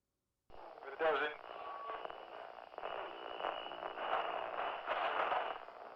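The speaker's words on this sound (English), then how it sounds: "Now it just sounds like radio coming through." Crackly, warbling radio fragments stream through a spirit box scanning device, a jumble of chopped voices and static that keeps shifting without pause.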